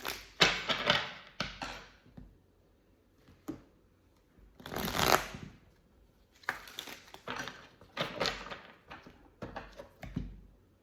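An oracle card deck being shuffled, with repeated bursts of riffling and patting cards spread across the clip, fairly close and quiet, with no talking.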